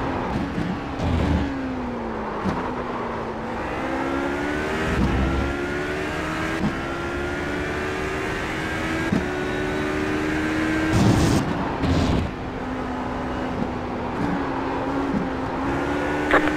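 A race car laps the Red Bull Ring, its engine revving up through rising pitch sweeps and dropping at each gear change, close and steady, with brief sharp shifts punctuating the drone.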